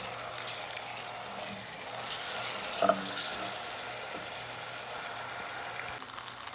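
Ginger garlic paste frying in a pan for a Bengali rui fish and potato curry: a steady, close sizzle and hiss with soft stirring scrapes, and a brief clatter near the middle.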